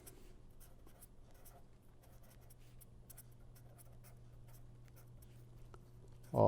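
Chalk or marker scratching and tapping on a board during a lecture, faint and intermittent over a low steady room hum, with a louder bump at the very end.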